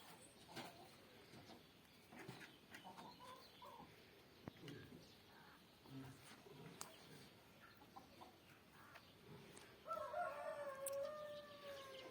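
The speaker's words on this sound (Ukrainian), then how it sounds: "озвучують зйомку, як завжди, півні." Scattered clucks and rustles give way to a loud rooster crow near the end, with another answering crow further off.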